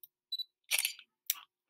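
A DSLR camera shutter firing, a few soft quick mechanical clicks and clacks in near silence, close to the microphone.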